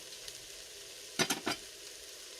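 Onions caramelizing in a pan for a smoky veggie stew give a low steady sizzle, broken briefly by three quick stirring scrapes close by, no talk.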